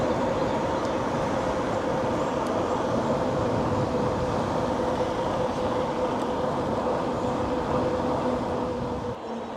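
A Luna X2.5 Enduro Extreme 60V electric bike runs under throttle, its motor holding a steady whine under a constant rush of wind and rolling noise, unbroken until it eases off at the very end.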